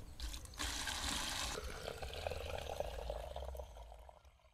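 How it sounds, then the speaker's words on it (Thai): Water is poured into a fruit ferment mixed with molasses, a continuous rushing splash that begins abruptly, holds steadily for several seconds, then thins and trails off. "เทน้ำลงไปเลยนะครับ"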